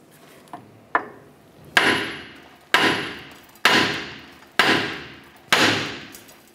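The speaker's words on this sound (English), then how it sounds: "Now we're going to strike the knuckle here to release the ball joint and control arm." Seven sharp hammer blows ring out against a Chevrolet S10 steering knuckle to pop loose the lower ball joint, two lighter taps followed by five heavy, evenly spaced metallic strikes, each with a short ringing decay.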